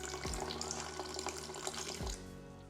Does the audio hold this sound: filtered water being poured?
yes